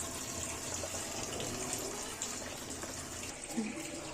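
Spinach leaves being lifted out of hot water with a strainer, a soft continuous watery trickle and drip at low level, fairly close, steady throughout with faint background noise.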